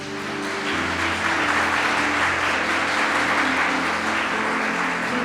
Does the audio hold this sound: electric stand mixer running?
no